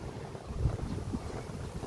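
Soft, steady wind rustles and buffets the microphone outdoors on a hot day in Vietnam, a low continuous whoosh with no voices.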